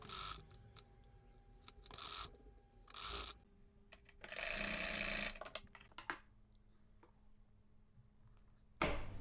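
A sewing machine runs a straight stitch along the frill of a young girl's skirt in short bursts of whirring, separated by quiet pauses, the longest run falling in the middle.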